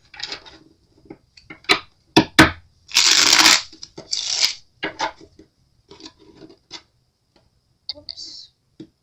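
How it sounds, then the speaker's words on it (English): A tarot deck is shuffled up close in crisp irregular bursts: quick riffles, taps and one longer sustained flurry, then sparser handling sounds trailing off toward the end. "Two more shuffles here and we'll begin."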